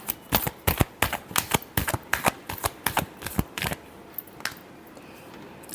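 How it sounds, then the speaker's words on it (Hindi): Tarot cards being shuffled, a rapid run of crisp riffling snaps close to the mic, steady at first and then thinning out into a few final flicks. "last shuffle"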